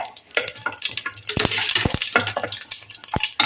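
Shahjeera hits hot oil for chicken biryani, a crackling sizzle broken by sharp clicks and scrapes of a spoon against the pan, close and busy throughout.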